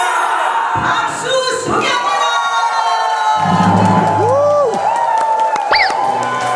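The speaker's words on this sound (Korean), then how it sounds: "박수" A television studio audience cheers and claps at a Korean variety show, lively whoops and shouts rising over applause, with bright voices and a host talking over the noise.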